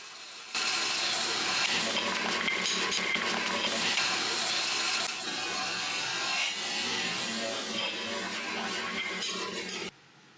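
A bandsaw cuts through a wooden workpiece in a shop, a loud, close, continuous rasping whine that starts abruptly, shifts in tone midway and stops sharply near the end.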